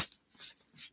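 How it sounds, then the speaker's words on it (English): Tarot cards are shuffled in a few quick, soft riffling bursts, quiet and close, with no talking. "Let's just shuffle these up."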